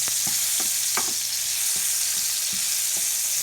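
Tomatoes sauteing in a hot pan, skins blistering, give a steady close sizzle with a few sharp pops and stirring scrapes.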